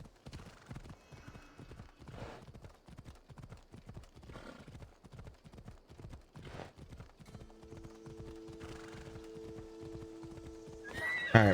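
Horse hooves clip-clopping in a steady trotting rhythm in Assassin's Creed Odyssey, with a whinny near the end and a brief loud burst at the close.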